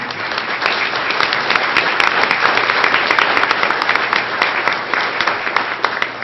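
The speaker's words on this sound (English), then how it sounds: "And I think that deserves a round of applause." A room of people at a council meeting gives a sustained round of applause for student competition winners, dense clapping holding loud and steady for several seconds.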